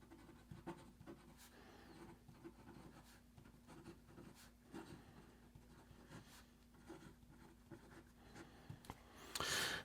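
A Xezo Maestro fountain pen with a number 5 nib scratches softly across paper while writing a sample, with faint, close strokes and small pauses between words.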